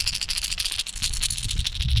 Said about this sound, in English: It's got your basic rattles in it like you would find in a Bill Lewis rattle trap